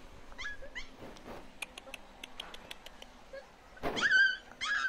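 A guard-dog breed puppy whimpers and yips in short, high, wavering cries, with a few light clicks and taps in between and louder whines near the end.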